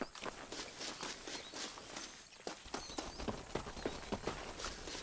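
Steady, evenly paced footsteps of a character walking on foot through Red Dead Redemption terrain, a crisp repeated crunch on dirt, close and clear with no talk over it.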